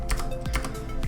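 Rapid, close typing on a computer keyboard, with a steady run of crisp key taps and no talking, while entering code in a programming console.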